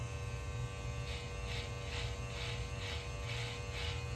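Steady electric hair clippers buzz close by while someone cuts their own hair, with a faint pulsing rhythm as the blades move through the hair, quiet and continuous with no talk.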